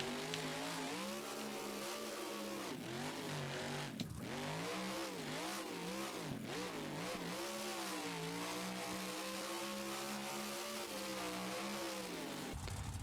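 Supercharged monster truck engine in the BeamNG Drive racing game, revving continuously with rising and falling pitch sweeps, loud and steady throughout with no talk.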